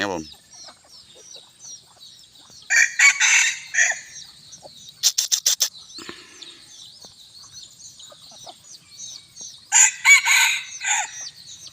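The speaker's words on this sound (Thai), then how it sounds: "ตัวนี้ไก่หนุ่มนะผมนะ ตัวที่ขันขึ้นตะกี้นี่" A young bantam rooster about a year old crows twice outdoors in the warm evening, bright and near, with scattered clucks from other fowl and a steady high insect hum in between.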